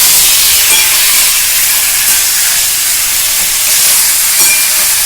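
Tomatoes dropped into hot oil for tomato paratha, a loud steady broadband sizzle and hiss that holds evenly throughout with no voices.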